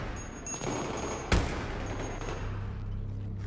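Gunfire in the video game Battlefield 3, a single sharp loud shot standing out over a dense, steady rumble of game noise, with no other clear bursts.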